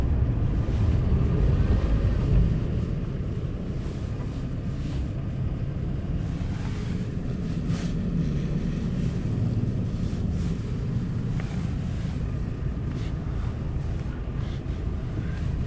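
Strong winter wind in the desert buffets the microphone in a constant low rumble, with gusts swelling and easing throughout and no talking.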